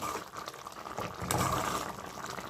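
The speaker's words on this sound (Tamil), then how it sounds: "நல்லா வெந்துக்கிட்டு இருக்குது இந்த கத்திரிக்காய் வெண்டிக்காய் எல்லாமே நல்லா வெந்து வரணும்" Okra and brinjal curry bubbling in a covered pot, a steady close hiss of simmering liquid with a soft rising surge midway, no voices.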